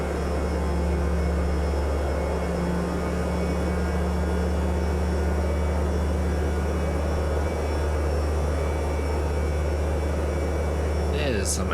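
A steady, droning light-aircraft engine in Microsoft Flight Simulator 2024, cruising over mountains and savanna at a constant loud hum that holds for the whole stretch with no breaks.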